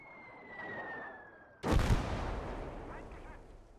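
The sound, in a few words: 37 mm gun firing in the video game Gates of Hell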